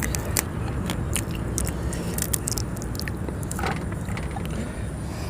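Crispy roasted pork tail crunches between the teeth as someone bites and chews up close, loud crackly snaps over a dense, steady background noise, with no talk.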